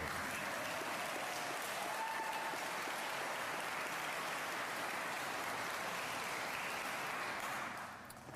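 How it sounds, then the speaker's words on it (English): Sustained applause from a graduation audience at a 2022 St. Joseph Central Catholic High School ceremony, dense and even throughout, heard from a distance and fairly quiet, fading slightly at the close. "go ahead and applaud her, it's okay"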